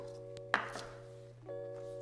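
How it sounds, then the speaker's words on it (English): A single sharp knife chop through green onions on a cutting board, one crisp near thunk over a steady background hum, with no voices. "Now we'll take our green onions,"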